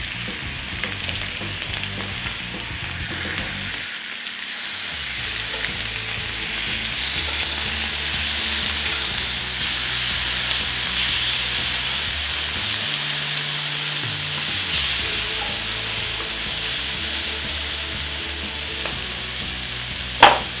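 Bacon frying in a dry pan with no oil, a steady loud crackling sizzle that carries on throughout, close up, with a couple of brief quieter dips and no voices.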